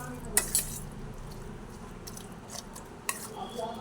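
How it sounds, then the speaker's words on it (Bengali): A spoon scrapes and clinks against a bowl while a yogurt mixture with sugar and salt is stirred for yogurt toast, with a few sharp metallic taps early and later, and soft quiet mixing between them. "প্রথমে একটু নাড়াচাড়া করে নিলাম"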